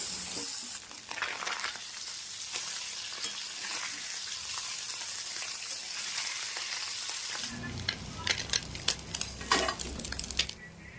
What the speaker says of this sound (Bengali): একই তেলের মধ্যে মটি মাছগুলিকেও খুব সুন্দরভাবে ভেজে নিতে হবে